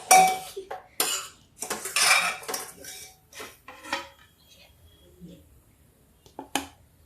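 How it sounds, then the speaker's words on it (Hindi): Dal and daliya khichdi with ghee being served into a dish, with a series of sharp metallic clinks and scrapes of a spoon against a pot and plate, close by and irregular, with quieter gaps between. "अब देखिए मैं खिचड़ी परोस रही हूँ"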